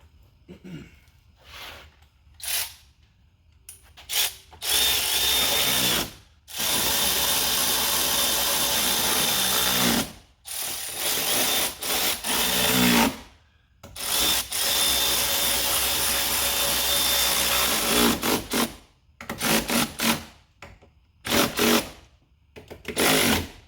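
Power tool tightening the fasteners of an OEM tow mirror on a 2019-or-later fifth-generation Ram 1500, in loud sustained whirring bursts of several seconds, separated by short pauses and brief clicks, close up.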